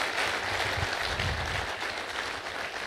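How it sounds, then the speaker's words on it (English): An audience claps for author Chetan Bhagat at a speaking event, a steady wash of many hands filling the room at moderate loudness, alone without speech. "Give a big round of applause for Chetan."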